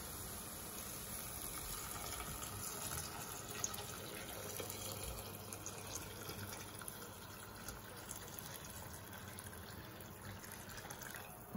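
Hot water pouring steadily into a cooking pot while harira soup is prepared, a continuous close splashing flow that runs unbroken for the whole stretch, with no talking over it.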